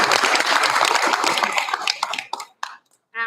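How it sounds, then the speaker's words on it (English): A room of attendees claps at a school board meeting, loud and dense at first, then thinning into a few scattered claps before stopping, followed by a brief final burst. "Another round of applause."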